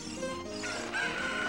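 A chicken clucks in the Zelda Ocarina of Time video game, brief, soft, nearby and alone.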